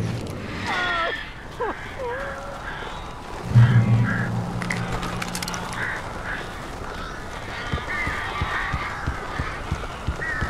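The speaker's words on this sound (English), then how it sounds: "These birds are weird." Birds in the video game Alan Wake Remastered give a few squawking, quack-like calls near the start, followed by flapping, rustling noise and scattered clicks against a murky background.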